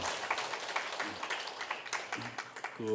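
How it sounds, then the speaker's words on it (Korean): Applause from a forum audience at the close of a debate, a brief, quiet spatter of clapping heard at a distance, with faint voices showing through. "박수 한번 부탁드립니다."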